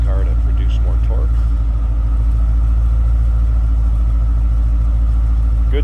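Supercharged 2005 Ford Mustang Saleen S281 with a Saleen vacuum-actuated exhaust, running at a steady, loud, close idle with a deep rumble throughout.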